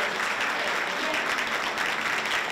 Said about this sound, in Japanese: 会場後方のドアが開くと大きな拍手の中、最初に葛西紀明選手が入場